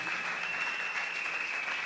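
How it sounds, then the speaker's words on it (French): Church congregation applauding during an anniversary celebration service: steady, moderately loud clapping from a crowd, with a faint sustained high tone running underneath. "Est-ce qu'on peut acclamer"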